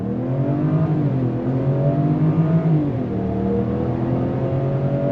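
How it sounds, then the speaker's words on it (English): A 2026 Range Rover Velar P400 with a supercharged and turbocharged engine, set to dynamic mode, launches hard from a dead stop, its engine note loud and rising steadily as it pulls away, with no voices over it. "2026 Range Rover Velar, that P400. And we're gonna go on throttle from a dead stop."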